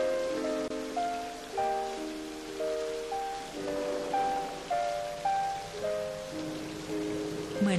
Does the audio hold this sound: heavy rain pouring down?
yes